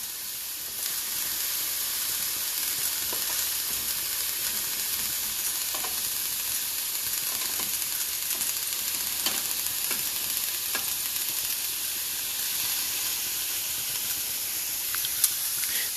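Teriyaki chicken cooks on a grill, giving a long, even hiss and sizzle with occasional faint pops and light taps, steady and close throughout with no speech.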